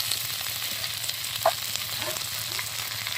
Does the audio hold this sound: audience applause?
no